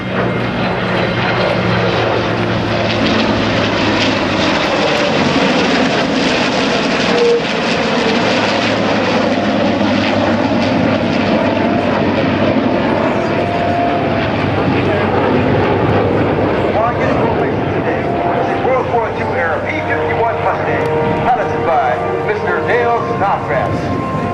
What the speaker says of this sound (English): A United States Air Force F-16 Fighting Falcon